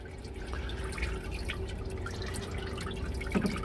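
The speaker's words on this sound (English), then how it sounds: "let's start draining our oil" Oil drains through a hose from a Thermo King reefer unit, a soft continuous trickle and dripping of liquid running steadily with a faint low hum underneath.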